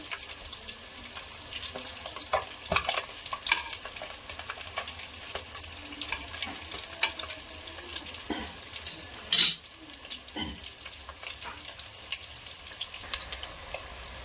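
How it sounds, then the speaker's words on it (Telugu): Eggs frying in oil in a pan: a steady, faint sizzle and crackle with occasional clinks and scrapes, and one sharper hiss burst partway through, no voices. "మంచి కలర్ వచ్చేదాకా పెట్టుకోవాలండి, వేయించుకోవాలి."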